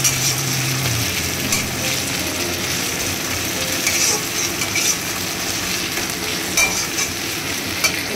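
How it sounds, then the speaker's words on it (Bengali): Spice masala stir-frying with chicken gizzards and wings in a pan, a steady close sizzle with scraping stirs and occasional clinks throughout. "এবার মশলাটাকে ভালো করে কষাবো।"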